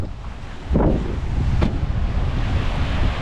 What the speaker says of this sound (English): Wind's blowing my door closed.